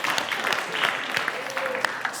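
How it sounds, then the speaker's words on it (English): Congregation applauding themselves during a Unitarian Universalist Sunday sermon, a steady, moderately loud patter of clapping with scattered sharper claps and a faint voice murmuring underneath. "applaud yourselves"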